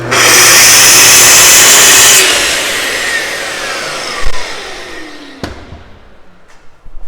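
A power saw, with its blade set deep and the work clamped, rips loudly through a wooden board for an end table top, then the motor whines down and fades, followed by a couple of sharp knocks.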